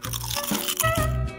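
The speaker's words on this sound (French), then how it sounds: "C'est tellement croustillant et juteux." Crunchy, juicy food is bitten up close in a grandmother-versus-me cooking challenge, giving several loud, wet crunches in quick succession with no talking.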